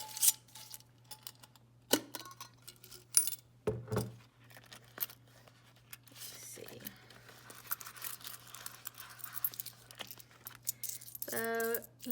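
Loose change is emptied into a change jar. Coins clink and jingle in scattered bursts, and a quick metallic rattle sounds near the end. The clinks are close and fairly quiet against a low steady hum.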